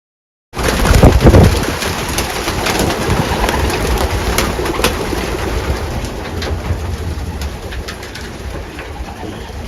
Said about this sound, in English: I just want to show you a couple birds.